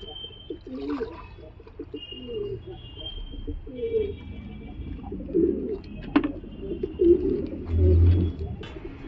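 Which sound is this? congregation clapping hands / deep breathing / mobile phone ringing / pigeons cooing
pigeons cooing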